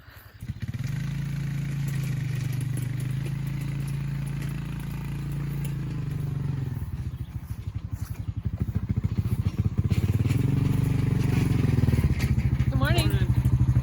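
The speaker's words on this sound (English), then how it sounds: "he already loaded up the trailer of the four-wheeler, and I think he's bringing the hay over" A four-wheeler pulling a trailer loaded with hay idles and runs in a steady, loud low engine drone, and the revs climb near the end.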